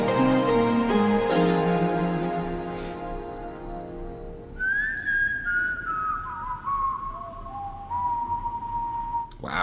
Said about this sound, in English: The whistling, oof, it's tingling.